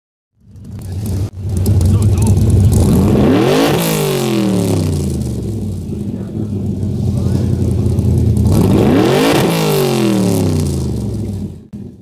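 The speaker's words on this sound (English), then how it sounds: "This version retained the high-revving 289 V8 engine" A 1966 Ford Shelby GT350 with a high-revving 289 V8 roars loudly and close, climbing through two long rising revs that sweep up and settle back, with no talking over it.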